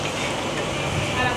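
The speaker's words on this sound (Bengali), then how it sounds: "সেটাও আমি ভাজছি" Malpua, sweet pancakes, fry in a pan with a steady, close, broadband sizzle and crackle that runs without a break, while a voice talks over it.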